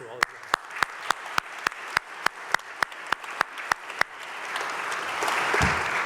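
A panel-event audience at the Customs House claps in slow, even unison, about a dozen crisp beats, before the sound loosens into a broader wash of applause and murmur.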